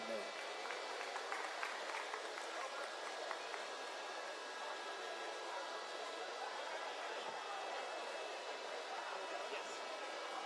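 Crowd applause after a judges' split decision at a BotBrawl robot fight at Anime North 2024, a dense, even wash of clapping heard from a distance in a large hall, with a voice speaking faintly underneath.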